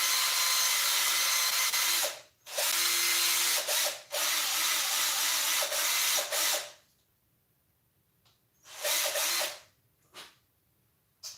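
A power drill boring into material near a gearbox, loud whining runs of about two seconds each, broken by brief pauses and a longer silence before a final burst.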